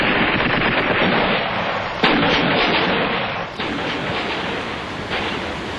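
Artillery and gunfire from archival war footage of fighting around buildings: a dense, continuous roar of rapid firing with a few sharper bursts standing out, loud and noisy throughout, with no speech.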